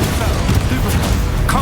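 An Expulso spell goes off in the video game Hogwarts Legacy as a burst of loud, crackling blasts and booms that tumble over one another for under two seconds.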